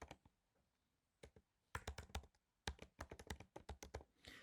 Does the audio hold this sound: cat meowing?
no